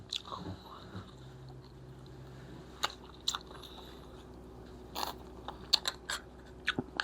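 Someone eats very spicy stir-fried pork bones, giving scattered crunchy bites and wet chewing close to the microphone, with quiet pauses in between and no talking.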